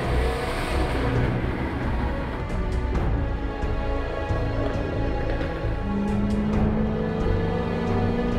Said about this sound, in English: One step on the gas and the 5-liter V8 roars